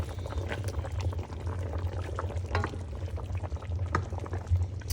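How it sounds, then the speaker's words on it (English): Water poured into a pan of chicken to make brown gravy, a soft continuous trickle with light sizzling and bubbling, fairly quiet and close. "we're about to add water down for a little bit and make that brown gravy"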